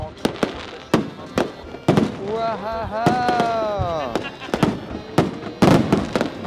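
Fireworks at the Le Mans 24 Hours light show crack and bang in sharp, irregular bursts, loud and close, with crackling between them and whistling rockets rising through the middle; a person exclaims once among them.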